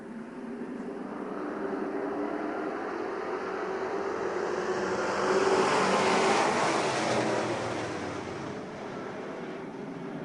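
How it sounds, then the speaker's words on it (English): Pure stock race cars roar around the track during a final heat race, a dense, continuous engine drone that swells to a peak midway as the pack passes, then eases off. "So we are racing once again. Final pure stock heat race."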